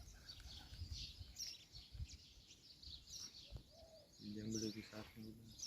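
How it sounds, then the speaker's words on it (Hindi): Released pigeons flap off from a hilltop temple area, wing-beats and soft bird calls scattered through the clip, with brief coos and chirps over outdoor background and nearby voices. "तो चलो इधर से कबूतर छोड़ते हैं, भाई छोड़ दे।"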